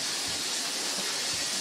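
Continuous steam hissing from a pot of cooking crabs, loud and close, with faint low thumps beneath the steady hiss.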